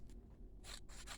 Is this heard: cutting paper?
yes